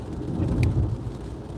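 Steady rain falling outdoors with a low thunder rumble beneath it, a continuous loud wash with one faint brief click, and no talking.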